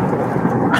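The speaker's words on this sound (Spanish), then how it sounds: "El trueno, ya lo echaban de menos." A short thunder sound effect gives a low, loud rumble lasting under a second.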